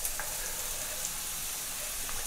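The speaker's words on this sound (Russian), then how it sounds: "Масло готово. Теперь жарим лук." Onion frying in oil in a pan, a steady close sizzle with a soft hiss throughout and no speech.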